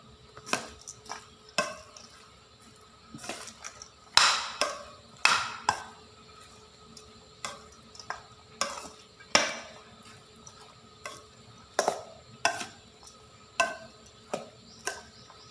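A glass noodle salad with spring onion and coriander is tossed in a bowl, giving a series of soft wet squelches and light clinks of utensil on dish at an irregular rhythm, close and quiet.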